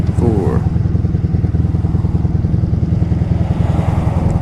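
A 1987 Honda Super Magna motorcycle cruising in top gear, its engine holding a steady, close, throbbing drone with a slight rattle throughout and no change in pace.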